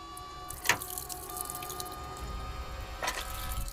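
Two distinct water drips from a tap fall about two seconds apart over a steady background hum, each a short, moderately loud plop.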